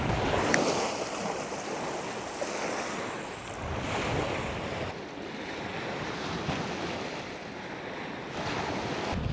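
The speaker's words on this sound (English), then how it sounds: "Very windy and the sea's fairly rough" Rough sea waves crash and wash on the shore under strong, gusty wind that buffets the microphone, a continuous roaring wash with no voices.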